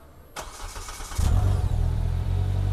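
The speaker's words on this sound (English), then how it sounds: "you put your foot on the gas, hit the start button" A Polaris Slingshot autocycle starts up. A short cranking burst comes first, then the engine catches and settles into a loud, steady, rumbling idle close by.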